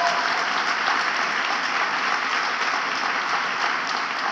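Sustained, loud applause from an audience at a women-in-entertainment awards event, a dense, even wash of clapping filling the whole stretch with no voices on top.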